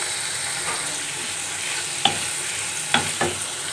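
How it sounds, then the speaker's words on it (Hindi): Chicken sizzles in a pan with sautéed garlic, a steady close frying hiss broken by a few sharp spatula scrapes and taps as the pieces are stirred. "चिकन को हमने इसमें भूनना है, सही से इसको फ्राई करेंगे।"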